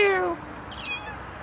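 A black cat gives a short, odd meow, a strained harmonic cry that fades quickly, followed by a faint higher squeak, close by and alone with no talking.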